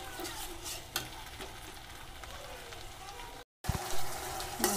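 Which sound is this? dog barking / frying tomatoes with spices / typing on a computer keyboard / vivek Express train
frying tomatoes with spices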